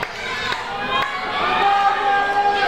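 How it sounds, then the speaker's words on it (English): A wrestling crowd at a live indie match roars and cheers in a sustained, swelling wall of noise with a few sharp claps, loud and close, while a commentator talks over it. "Matt Cross now feeding off the energy of this crowd"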